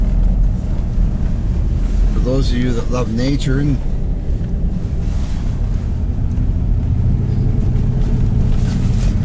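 A 4x4 locked in high driving the winding Tulameen road in winter, a loud steady engine and road rumble with wind buffeting throughout and a person speaking briefly over it.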